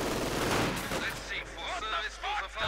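Machine gun fire rattles through a Company of Heroes World War II battle as conscripts come under heavy fire: a dense loud burst up front, then scattered shots and distant combat noise.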